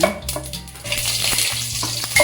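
Fenugreek seeds crackle and sizzle in hot oil, a close, continuous frying hiss with small pops.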